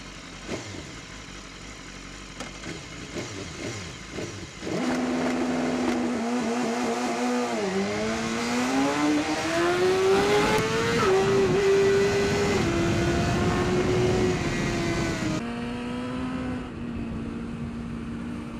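A race motorcycle on Bridgestone Battlax V02 tires sits idling, then the engine holds a high steady rev on launch control before launching and pulling hard through rising revs, loud and close, settling afterward into a steady higher drone.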